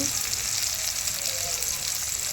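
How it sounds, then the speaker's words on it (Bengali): Small fish fry in a pan with tomato and potato cooked village style, a dense continuous sizzle, close and loud, with no talk. "মাছটা ভাজতে ভাজতে তোমাদের সঙ্গে একটা কথা শেয়ার করি"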